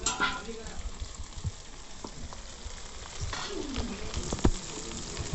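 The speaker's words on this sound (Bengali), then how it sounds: "মাংসগুলি লাল লাল করে আমি ভালো করে ভেজে নিয়েছি, এরপর দিয়ে দিচ্ছি ভেজে রাখা আলু।" Chicken pieces frying in a pan as fried potatoes are added, a continuous close sizzle with stirring scrapes and a few sharp spatters.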